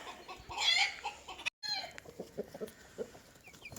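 Brahma chickens clucking nearby, a burst of several hens at once, then scattered softer clucks that continue, with a brief gap of silence in between.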